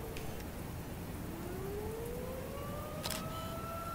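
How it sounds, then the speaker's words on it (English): Tornado sirens in a storm chasing video game wail steadily at a distance, one long rising tone drawn out over heavy rain and wind noise, with a brief sharp clatter partway through. "Tornado sirens! They do have it in the game."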